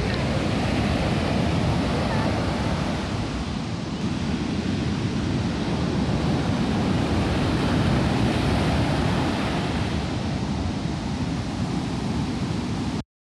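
Steady roar of surf washing onto a beach in San Juan, La Union, broad and continuous, with wind buffeting the microphone and no clear voices.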